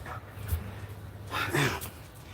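A dog shut behind a gate outdoors gives a short whimper, then a louder bark and yip a second later, fairly close, with faint background noise between.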